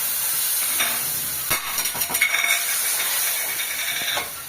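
Spice paste fries with bottle gourd and potato in a pan, giving a loud continuous sizzle while a spatula stirs and scrapes with a few knocks midway.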